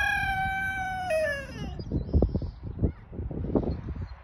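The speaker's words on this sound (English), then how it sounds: "you can hear a rooster" A rooster crows once, loud and close, its drawn-out call fading into scattered low thumps and rustling noises.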